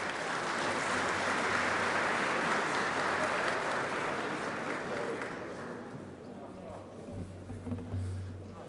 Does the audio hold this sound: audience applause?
yes